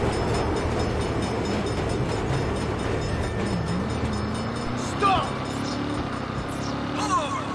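A train rolls past in the Saints Row video game with a steady, continuous rumble, and a few faint, brief squeals sound near the end.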